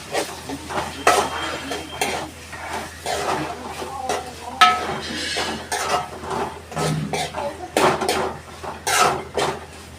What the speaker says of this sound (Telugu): ఇక్కడ డబ్బాలన్నీ పడిపోతున్నాయి